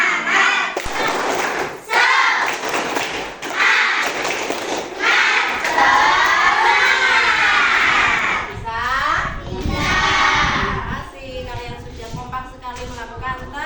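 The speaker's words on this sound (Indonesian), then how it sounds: "mari kita lakukan tepuk semangat" Schoolchildren doing a rhythmic spirit clapping chant in Indonesian, loud group voices and claps together in a crowded room, continuous and energetic.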